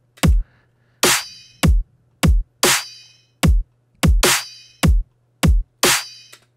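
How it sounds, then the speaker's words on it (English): A lighter, chopped snare pattern in a melodic dubstep beat, built in a drum rack: about eleven sharp, bright snare hits in a syncopated, uneven rhythm. A low steady hum sits underneath, and there is no talk. "In the drum rack, make a lighter chop snare."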